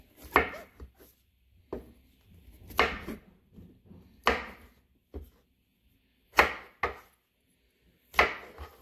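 A knife chopping food on a board in about six separate, sharp, close knocks spaced a second or more apart, with quiet between cuts.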